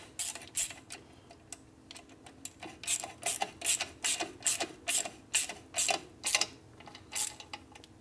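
A ratchet tightens bolts on a 1967 Harley-Davidson 74ci shovelhead FLH transmission, giving a steady run of about a dozen close, crisp clicking strokes with brief pauses between them, no voices.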